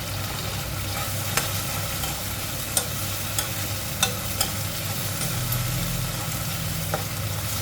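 Chinese kale stems stir-fried in a wok with oyster sauce give a steady, close sizzle, marked by a few sharp scraping clacks of the spatula against the metal.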